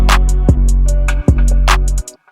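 A punchy trap drum beat with heavy, pumping parallel compression: booming kicks, crisp snares and ticking hi-hats, dense and loud throughout.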